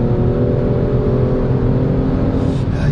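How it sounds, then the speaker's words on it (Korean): A Kia Stinger 3.3 Turbo GT engine growls steadily with a low, rumbling revving tone that holds at high rpm in a lower gear, loud and close, without voices. "이제 기어를 낮추고 회전수를 높여보면 약간 이제 그르렁거리는 소리가 좀 올라오네요"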